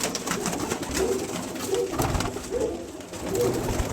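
Pigeons coo in soft, repeated rolling calls, about four spaced phrases over a low background hum, with no one speaking.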